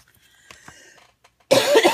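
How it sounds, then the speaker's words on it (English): One loud, close cough bursts out near the end after a few quiet rustles. "so sorry, I just coughed"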